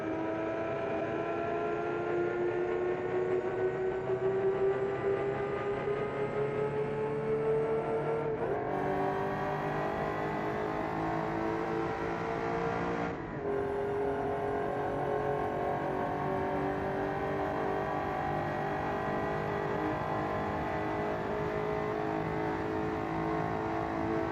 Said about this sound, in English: get ready for some supercharged V12 love